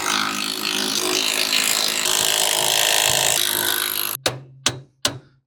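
A power tool whirs continuously for about four seconds while tightening new shackle link nuts on trailer leaf springs, then three sharp, evenly spaced metallic taps ring out close by.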